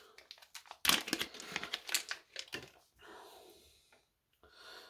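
Packaging around a set of dice is torn and opened by hand, crinkly plastic rustles and sharp crackles in uneven bursts, close and quiet, with a soft breathy rustle trailing off.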